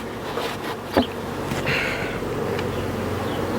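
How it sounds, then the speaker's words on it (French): Dense honeybee swarm buzzing steadily inside a hive while it is transferred into a small nucleus box, a continuous close hum with a brief knock near the start. "Regardez comme c'est blindé d'abeilles au fond"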